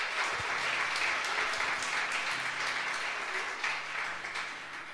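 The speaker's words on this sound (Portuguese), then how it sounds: "Se você crê, aplaude ao Senhor, em nome de Jesus." A church congregation applauds during a Portuguese-language sermon, steady dense clapping sustained throughout with a faint low hum underneath, tapering slightly at the end.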